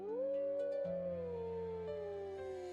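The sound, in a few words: voice imitating a wolf howling at the moon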